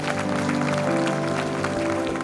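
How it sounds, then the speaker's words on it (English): An audience at a public service week event applauds public officers, a dense wash of clapping from a large crowd, steady and fairly loud, mixed with a sustained tonal background. "can we just all applaud all of you, all public officers, for what you do?"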